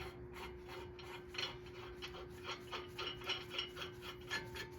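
A lug nut is spun by hand onto a wheel stud of a 2008 Ford Edge during a brake job: close, steady rasping scrapes repeating in quick rhythm over a faint constant hum.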